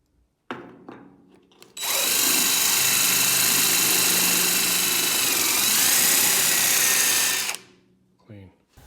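An impact gun drives a thread cleaner through the threads of a vehicle frame, a loud continuous whirring burst of about six seconds, close up, framed by brief clicks and handling noises before and after.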